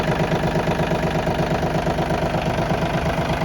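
A small Yanmar mini tractor diesel engine idles steadily with an even, rapid knocking rhythm, close and loud throughout.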